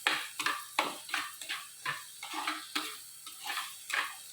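Chili powder sautéing in a tomato curry as a spoon stirs the pan, with roughly ten regular scraping, clinking strokes against the metal and a light sizzle between them, close and clear.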